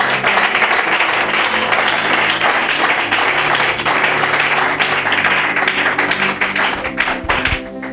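A church congregation applauding, dense, loud and continuous clapping that fills the room for several seconds before tapering slightly near the end.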